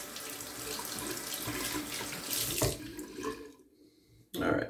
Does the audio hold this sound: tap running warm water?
yes